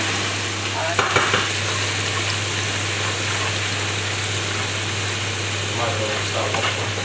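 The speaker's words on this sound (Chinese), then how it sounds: "那我炒它是因为炒一下它会比你直接扔进热水里化开要更香。" Chilies and hot pot spices stir-fried in a hot pan give a steady, close sizzle across the whole stretch, with a low constant hum beneath it and a couple of brief scrapes near the start.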